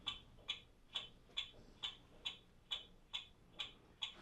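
A mechanical clock movement ticks after its crutch wire has been bent to adjust the beat, giving sharp, close ticks at a steady, fairly even rhythm of roughly two per second, with no other sound.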